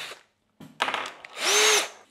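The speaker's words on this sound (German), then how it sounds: "vorsichtig mit einem 2 mm Bohrer das Loch aufbohren" A 2 mm drill bit bores out a small hole in a short burst, the power drill whining up in two spells and then a longer sustained run, close and fairly loud with a brief pause near the start.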